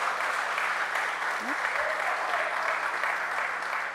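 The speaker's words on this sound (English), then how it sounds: "Let us give them a round of applause, the private sector." Applause from a crowd at an outdoor public political meeting, a steady dense wash of clapping that stays loud and even throughout, with no talking over it.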